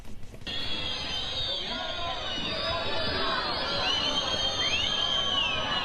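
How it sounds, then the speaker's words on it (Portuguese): Grêmio football fans arriving at the stadium make a continuous crowd din, with rumbling hubbub and high whistles or chant-like tones rising over it, heard at a moderate distance. "Essa hora que a torcida do Grêmio tá chegando no estádio."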